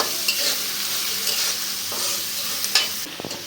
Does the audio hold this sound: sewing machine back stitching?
no